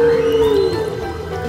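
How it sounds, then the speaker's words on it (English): Toy sea-animal whale sound effect: a single tonal, whale-like electronic call that slides downward, steady and fairly loud, with no talking. "Whale. Whale."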